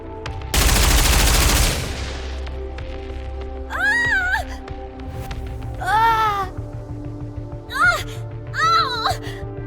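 A short, dense burst of suppression-round gunfire from the game Goddess of Victory: NIKKE hits loud and close. High, wavering voice-like cries follow in several separate bursts over a low steady hum.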